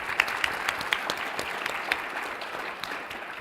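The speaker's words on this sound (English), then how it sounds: "If we can give him another round of applause." Audience applause following a talk at an event on inclusive practices for children, steady clapping from a crowd throughout, fairly even and sustained, with no voices on top.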